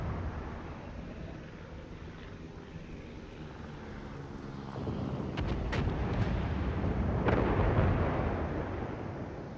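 Naval gunfire between warships in an online naval battle game, with deep rumbling booms under a continuous low roar that swells louder partway through, and a few sharper cracks near the peak.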